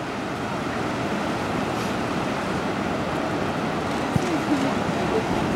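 Strong ocean surf breaking at Carmel Beach, a dense continuous wash of waves and wind roar, loud and close, with no talking.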